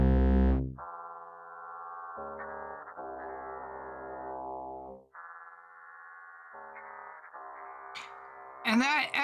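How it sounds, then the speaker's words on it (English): Synthesizer tones layered with a heavy echo and distortion effect, sustained buzzing notes that step between pitches with a warbling, smeared repeat, ending in a brief chirping sweep; loud and alone, no talking. "that echo gives it a really wild sort of distortion, or the distorting kind of echoing effect"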